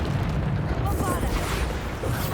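Rapid bursts of Bombarda spell explosions in Hogwarts Legacy, booming and crackling one after another in a dense, loud game battle with no pause.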